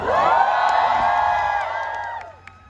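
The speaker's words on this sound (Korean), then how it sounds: "제 팬분들은 환호 그만하십시오" Concert fans at a show let out a burst of high-pitched cheers and squeals that swell at once and then fade out over a couple of seconds.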